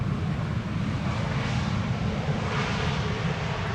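Steady broadband roar of an airliner on approach to the Polderbaan runway at Amsterdam Schiphol Airport, constant and fairly loud throughout with a deep low rumble and no voices.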